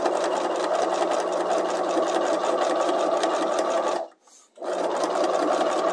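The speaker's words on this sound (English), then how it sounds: "And then I'm going to continue stitching." A sewing machine runs at steady speed stitching around a fabric corner, a close rhythmic whirring clatter that stops briefly for the pivot and then resumes.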